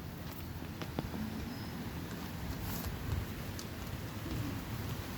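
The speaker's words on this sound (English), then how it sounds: "It's starting to rain again." Steady rain falls throughout, a dense, even patter with occasional louder drops, moderately close and with no voices.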